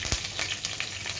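Whole cumin seeds and dried red chilies sizzle steadily in hot oil in a pan while being stirred, a bright close crackle with short scrape bursts, cooked for a Bangladeshi beef tongue bhuna.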